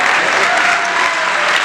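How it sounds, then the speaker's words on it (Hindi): Audience applause at a live comedy poetry show in Delhi, a loud continuous wash of clapping from a large crowd, steady throughout. "हाँ, तालियां बजा सकते,"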